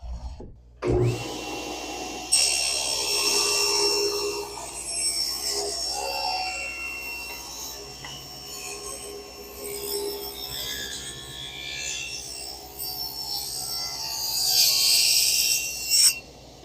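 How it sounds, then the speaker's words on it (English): A dust collector drones steadily in a woodshop while a table saw cuts an adjustable sled runner, a loud sustained whooshing roar with a sharp start and shifting hiss throughout. "And let me get the dust collector on."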